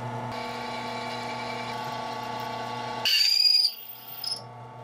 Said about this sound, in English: So I'm gonna drill these holes and hope for the best.